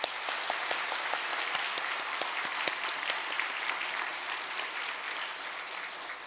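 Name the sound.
applause in church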